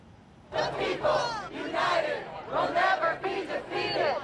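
A large crowd of liberal demonstrators at a rally in Boston chanting in loud rhythmic bursts, many voices rising and falling together in repeated waves.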